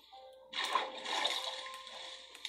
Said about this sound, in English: If I could get up the freaking waterfall.